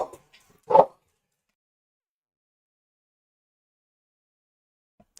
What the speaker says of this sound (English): my dog doesn't like when people walk outside.